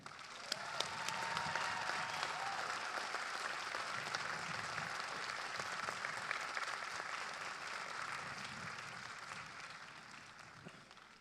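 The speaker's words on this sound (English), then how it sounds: "Please give our world-renowned faculty a round of applause" Sustained applause from a large audience honoring faculty at a graduate commencement ceremony, dense and steady for the whole stretch, with many individual claps blending into a continuous wash.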